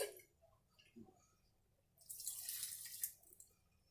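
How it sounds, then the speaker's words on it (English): Water poured into a vase holding a water-culture orchid: a few soft drips, then a brief splashing pour about a second long, close and quiet. "I'm going to fill her up probably to about there with some water."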